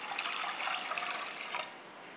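Half a litre of water pours into a pot with milk for making pongal, a steady bright splashing stream up close that tapers off toward the end, with no talking.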